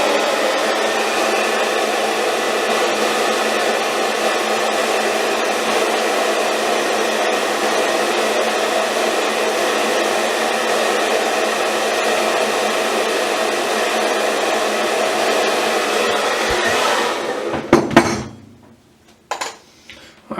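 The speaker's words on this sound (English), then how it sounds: "Hair dryer warning." A hair dryer blows steadily and loudly on a styled handlebar mustache coated in stache cream, a constant whooshing drone for about seventeen seconds before it cuts off, followed by a few brief clatters.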